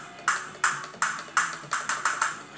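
Tama drum samples triggered one by one in Addictive Drums software on a PC: about eight short, crisp struck hits in a loose sequence, fairly quiet, each decaying quickly.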